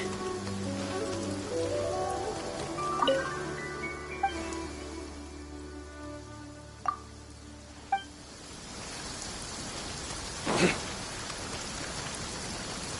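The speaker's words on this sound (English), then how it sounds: "It's raining again." Rain falls in the Genshin Impact video game, a soft steady patter under a gentle melodic music line, with a few sharp chiming accents and a brief louder swell near the end.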